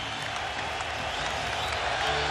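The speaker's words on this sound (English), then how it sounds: "Oh, this crowd fired up." A basketball arena crowd roars during Game 7 of the 2010 NBA Finals between the Boston Celtics and Los Angeles Lakers, a loud, sustained wall of cheering with a broadcast commentator talking over it.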